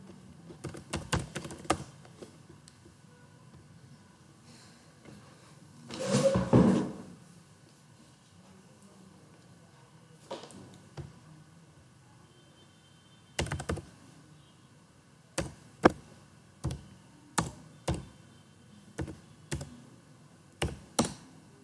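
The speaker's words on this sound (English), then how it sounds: "so there I am typing" Typing on a laptop keyboard in a quiet room, sparse bursts of soft key clicks and taps with pauses between, plus one longer rustling clatter midway; close and fairly faint.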